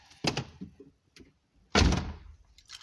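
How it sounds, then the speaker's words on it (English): Door of a Mazda 626 GF being shut: a light click and a few small rattles, then after a pause one solid, close thunk that rings briefly and fades, followed by faint ticking. "now I'll close the door."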